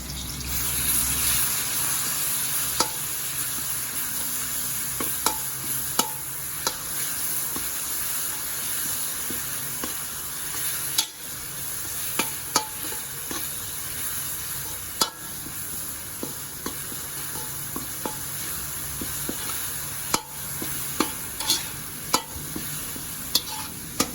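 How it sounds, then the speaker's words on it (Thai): Pounded chili and garlic frying in hot oil for a Thai fried fish dish with chili sauce; a continuous steady sizzle runs throughout, punctuated by occasional light clicks of a utensil against the pan, no talk. "เราก็ใส่ตัว พริกกระเทียมที่เราโขลกไว้นะครับ ลงไปเคี่ยวกับน้ำมันเลยนะครับ"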